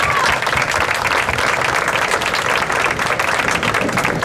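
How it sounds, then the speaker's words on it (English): Sustained audience applause at an outdoor fountain dedication event in Rochester, a dense steady wash of many hands clapping throughout, loud and continuous from start to finish. "Let's please give them a big round of applause."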